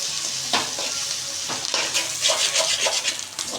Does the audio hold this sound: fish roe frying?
yes